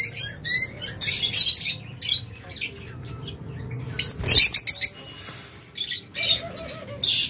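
Lovebirds, cockatiels and budgerigars in a bird seller's cages chirp and tweet in busy overlapping bursts, loud and close, with short quieter gaps between clusters of shrill calls.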